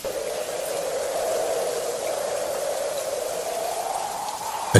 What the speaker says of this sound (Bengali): ওই দেখো দাদা, টিপ টিপ করে যে বৃষ্টি শুরু হলো।